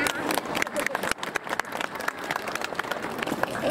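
A crowd at a YOSAKOI Soran dance performance in Hikone claps in a dense, continuous patter, with voices mixed in.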